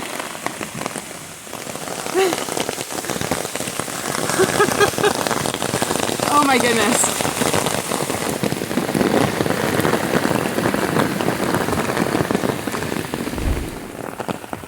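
Steady heavy rain drums on a surface throughout during a hike at Ricketts Glen, dense and close, with a brief spoken exclamation partway through.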